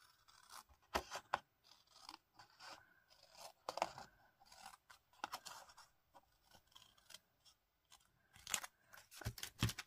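Scissors snip through paper card to cut out a pattern, with irregular close crisp cuts and crunchy rustles, quiet and without talk.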